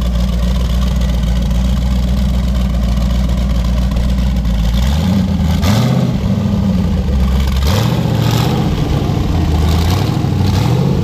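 Loud, close engine of a 1200 whp twin-turbo C6 Corvette, steady rumbling idle that rises into several revs with pitch sweeps, running continuously with no speech over it.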